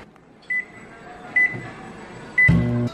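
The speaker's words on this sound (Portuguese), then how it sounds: "levar ao micro-ondas por 30 segundos" A microwave oven softening stale bread beside a glass of water: three short electronic beeps spaced about a second apart, then the low steady hum of the oven starting up, close and clear with no talking.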